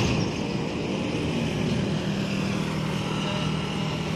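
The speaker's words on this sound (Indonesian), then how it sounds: "Oke, itu dari sana ada bus itu ya." A tour bus rolls along the road near a busy junction in Jambi, a loud, steady engine rumble and tyre roar that stays close throughout over the general hum of traffic.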